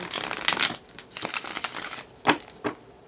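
A deck of tarot cards being riffled and shuffled in several quick bursts, a dry papery crackle close by with short pauses between.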